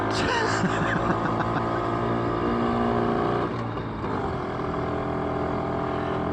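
A BSA D7 Bantam motorcycle's small engine ticks over at idle, giving a steady, close droning hum that dips slightly midway before settling back into an even idle.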